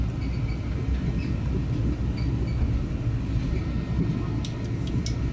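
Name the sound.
Brightline passenger train running near Northwest Palm Beach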